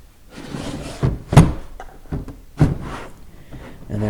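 Drawers of a Cobalt 277-piece mechanics tool set case slide open and shut, making several hollow plastic thunks and knocks spaced irregularly, close and fairly loud.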